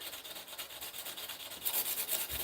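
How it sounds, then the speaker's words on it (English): A knife blade hand sanded with 80 grit sandpaper, steady close back-and-forth rasping strokes in a quick rhythm, growing a little louder toward the end. "let's keep hand sanding"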